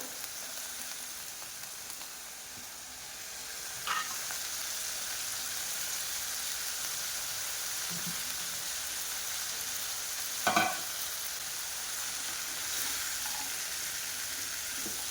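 Mixed vegetables frying and sizzling in masala on a gas stove in a home-style Indian kitchen, a steady close hiss with a couple of brief stirring clatters and no talk.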